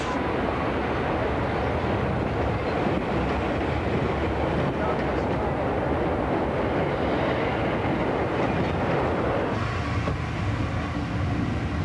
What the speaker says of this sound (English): Blue Peter is a Class A2 Pacific locomotive built in Doncaster.